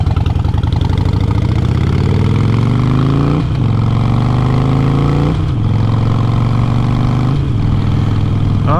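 A Harley-Davidson Sportster motorcycle engine revs up loudly and close, its throbbing pitch climbing several times before dropping back toward idle between pulls.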